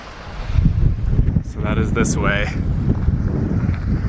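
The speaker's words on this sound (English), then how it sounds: "It is super windy right now." Strong gusts buffet the microphone near a mountain lake on the way to White Pine Lake, a loud rumbling wind roar that runs throughout while a person speaks briefly.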